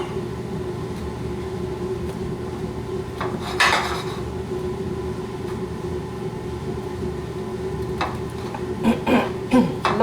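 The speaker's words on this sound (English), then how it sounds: "So I just shake it to coat the whole plate." A plate holding veal and breadcrumbs is shaken to coat it, giving brief rattling, scraping bursts over a low steady hum, with a louder cluster of clatter near the end.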